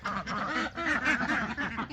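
A mixed flock of farm ducks (Pekin, khaki Campbell and runner ducks) quacks steadily and fairly close, a busy overlapping chorus of calls with no talking.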